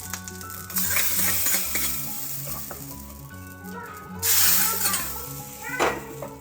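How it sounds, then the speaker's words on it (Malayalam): Hot oil sizzles loudly as a tempering hits a Kerala-style koratta pachadi, with crackling bursts and a metal spoon scraping and stirring. "ഇനി നമുക്കിതിലേക്ക് വറുത്തിട്ട് കൊടുക്കാം"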